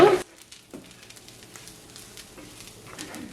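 A pan of brinjal and Maldive fish mixture for sambal sizzling softly as it sautés. A brief loud stir or clatter opens it, then a low, steady frying hiss follows.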